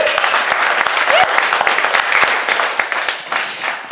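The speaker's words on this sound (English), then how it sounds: "How about we get one more round of applause" A live radio-show audience applauds steadily and close, a dense wash of clapping that holds for several seconds, with a voice briefly heard over it.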